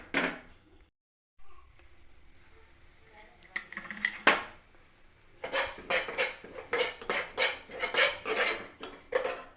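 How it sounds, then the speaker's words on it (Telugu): Cumin, fenugreek and mustard seeds are fried and stirred in a pan for a tempering. A quiet opening and a brief gap lead into rapid, rhythmic metal scraping and clinking of a spoon against the pan, close and busy. "జీలకర్ర మెంతులు, ఆవాలు ఇవన్నీ వేయించుకొని"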